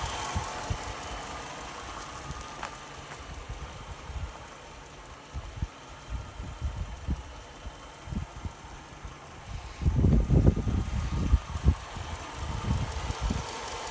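A 2005 Chrysler 300C with a 5.7-liter Hemi V8 idles under an open hood, a low, steady rumble heard close up, joined by intermittent thumps and handling noises that grow louder near the end.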